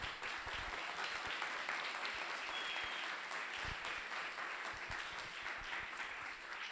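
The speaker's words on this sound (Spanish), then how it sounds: "Le damos un fuerte aplauso" Steady applause from an audience at a panel discussion on economics, a dense wash of many hands clapping at moderate distance that holds evenly for the full length, with a faint voice underneath.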